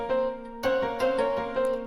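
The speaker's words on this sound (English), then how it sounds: "So without any processing, the piano sound like this." A dry, unprocessed piano plays a short run of clear, sustained notes, with fresh keystrikes landing in a steady rhythm.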